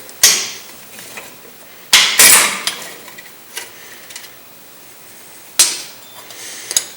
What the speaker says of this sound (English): Use the locking pliers again to remove the retaining spring.